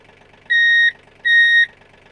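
A Mahindra Oja 2127 tractor's diesel engine idles with a low, steady rumble, while two sharp electronic beeps sound in turn over it.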